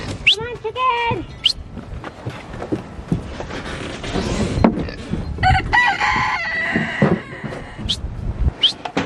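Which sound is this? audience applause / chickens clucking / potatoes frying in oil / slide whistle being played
chickens clucking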